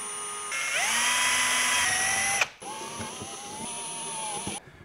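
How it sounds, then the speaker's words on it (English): A power drill whines at high speed, winds down, then whirs again more softly while boring into material, close to the microphone. "I'll drill holes and we can bolt them down."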